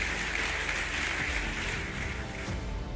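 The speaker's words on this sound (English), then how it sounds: "You deserve a round of applause." Applause from a summit audience, a steady dense wash of clapping sustained throughout at moderate distance, with no voices over it.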